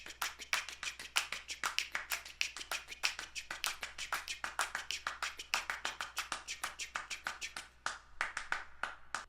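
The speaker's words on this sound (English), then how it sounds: "Oh, and I also did some other random claps up here." Dense layered hand claps and finger snaps stacked in an a cappella arrangement, rapid overlapping hits in an irregular, chaotic rhythm, close and fairly loud with no voices.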